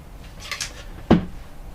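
Cupboard door catch released aboard a cruising catamaran: a couple of faint scrapes, then one sharp close click-thunk, near and brief in a quiet cabin.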